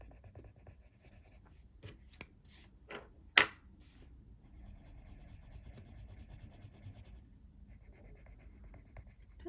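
A blunt coloured pencil rubs across paper in soft, scratchy strokes, close and quiet, with one sharper knock partway through.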